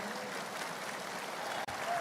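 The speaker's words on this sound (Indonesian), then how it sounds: "Tepuk tangan untuk Pak Anies." Audience applause for Pak Anies at a public discussion event, a faint, steady hiss of distant clapping from a crowd that continues throughout at low level.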